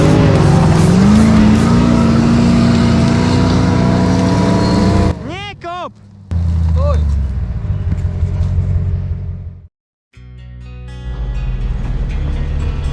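4x4 car driving in an off-road rally, its engine droning loudly and continuously with a rising whine, then broken by short gaps and squealing tones before the motor resumes, with voices briefly heard.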